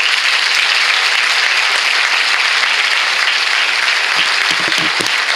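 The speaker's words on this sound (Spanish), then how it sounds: "Os pido ese aplauso especial." A crowd at the Mayos festival in Santa Cruz de la Zarza, 2017, breaks into loud, dense applause that holds steady and close for the whole stretch, with no voices on top.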